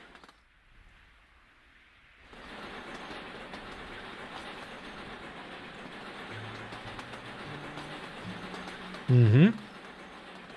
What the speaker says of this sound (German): Das sind die guten Züge.